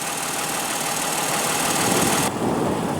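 A 2015 Toyota Highlander's 3.5-liter V6 idles steadily up close, a continuous even engine hum with a slight dip near the end.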